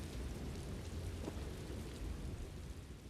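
Heavy storm rain pours steadily with a low thunder rumble underneath in the Summerset region of Elder Scrolls Online, a dense continuous wash with no talk.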